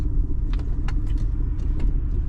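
A BMW car fitted with a Ford 302 V8 engine drives along with a steady, deep rumble that stays even in loudness.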